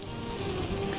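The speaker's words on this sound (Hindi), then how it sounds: "इसके नरम होने तक इसको फ्राई करूँगी।" Food frying in a pan until soft, a brief, steady close-up sizzle with an even hiss and no voices.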